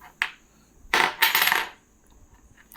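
A silver coin, an old Japanese piece weighing 27 grams, handled close up: a sharp metallic click, then two longer bursts of jingling and scraping, fading to quiet handling noise.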